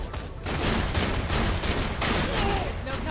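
Shotgun fire in the video game Borderlands: The Pre-Sequel, a dense run of loud, close blasts and rattling explosions with almost no gap between them.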